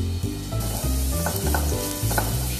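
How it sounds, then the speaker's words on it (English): Vegetables for arrabbiata sauce, namely onion, garlic, carrot, leek and celery, sautéing in a hot pan with a steady close sizzle and a few louder crackles and stirring sounds, no voices. "and we saute until it gets brown"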